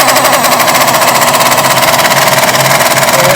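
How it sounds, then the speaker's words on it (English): Impact gun spinning a socket on an extension on a Chevelle, a loud, steady high-speed whirring and rattling buzz, close up and continuous with no talk. "Be careful with this gun, because as you probably heard, it spins fast."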